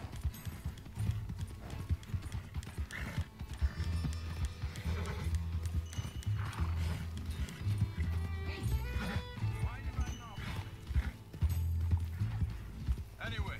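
Horse hooves clip-clopping at a steady run in the open-world western game Red Dead Redemption 2, with occasional whinnies, under game music and character dialogue throughout.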